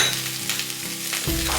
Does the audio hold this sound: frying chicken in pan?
yes